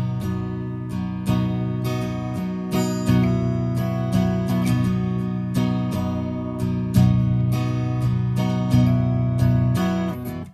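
Strummed guitar chords from the intro of a song ring out in a steady rhythmic pattern, close and full, with sharp strum attacks repeating throughout.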